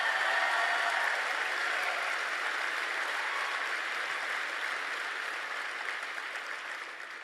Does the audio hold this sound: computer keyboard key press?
no